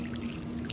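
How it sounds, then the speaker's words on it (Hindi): Water pours in a short, steady stream from a small vessel onto dry earth, soft and close, with no talking. "हम जो है इनके अंदर डालेंगे थोड़ा सा पानी"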